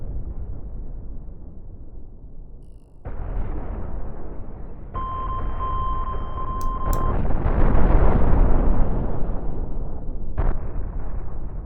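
Mines explode in the space game Cosmoteer: a sustained rumbling roar swells with sudden booming bursts, and a thin electronic beep sounds partway through.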